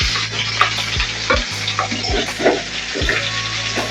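Chopped onion frying in hot oil with cumin seeds and minced garlic in a pan, a loud steady sizzle broken by several sharp stirring scrapes and clunks.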